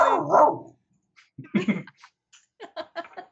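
A dog barks loudly and close at the start, followed by a few fainter, scattered yips and barks with gaps of quiet between them.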